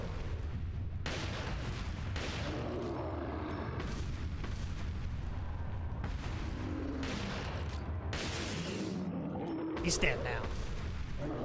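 Repeated heavy magnum gunshots in the Resident Evil 4 video game, dense booming bursts running throughout beneath game effects, with someone speaking briefly over the action.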